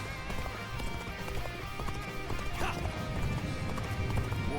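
A horse gallops in the Dynasty Warriors: Origins video game with rapid, steady clip-clop hoofbeats and a neigh, set against game music and battle ambience.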